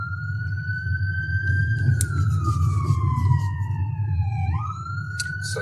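A fire engine siren wails close by, its tone sliding slowly down and then sweeping back up over a constant low rumble of road traffic and engine noise.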